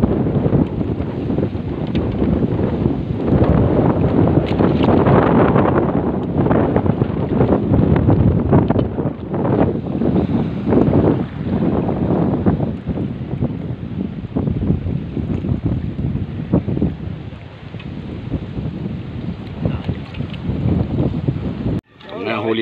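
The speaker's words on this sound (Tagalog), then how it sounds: "Kahit masyadong maingay ang hangin" Strong wind at a tilapia fishing spot roars and buffets the microphone almost continuously, with voices talking faintly underneath the rushing noise.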